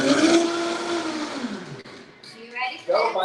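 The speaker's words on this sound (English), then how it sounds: "I'm using a Vitamixer. You can use any kind of blender at all." A Vitamix blender blending a pineapple drink, with a loud whirring motor whose pitch sweeps downward as it runs, then fades, followed by brief voices talking near the end.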